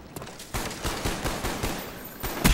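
Video game gunfire in a gun game match: a fast run of close, punchy shots in quick bursts for a couple of seconds, with no talking over it.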